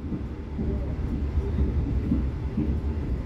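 The Gaya Baru Malam Selatan train runs straight through Sepanjang station, a continuous low rumble of rolling wagons with faint rhythmic clacking of wheels over rail joints, fairly close and steady throughout.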